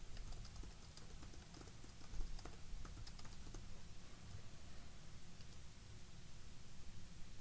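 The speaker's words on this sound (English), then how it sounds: "And then type in some page text." Faint keystrokes of page text being typed on a computer keyboard, soft clicks buried under steady background hiss, clearer early then fading into the noise.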